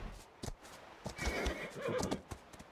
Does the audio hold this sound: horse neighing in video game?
yes